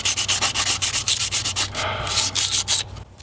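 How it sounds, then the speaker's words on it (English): A sharp edge is sanded by hand in steady, rhythmic back-and-forth strokes, loud and close, roughly a dozen rasping passes with one longer rub in the middle and no talking. "Spend a lot of time sanding"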